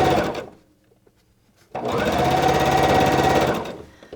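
A sewing machine stitches a quilt strip across its seams, one short burst of whirring needle action, then a pause, then a longer steady run of close, loud mechanical hum and rapid rhythmic stitching that stops abruptly.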